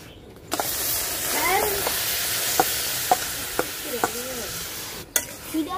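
Spice-coated raw mango drops into a hot kadai for sweet-sour mango naru, setting off a steady close sizzle broken by sharp scraping stirs and a few clicks, with no talking.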